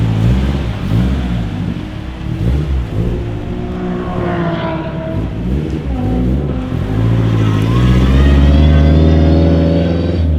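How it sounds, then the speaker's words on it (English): A Mazda MX-5 with turbo and gearbox laps the Wakefield Park race track, its engine loud and close as it revs hard through repeated gear changes and accelerations. "Enjoy the sounds of the turbo and gearbox singing as Curran pedals around Wakefield Park."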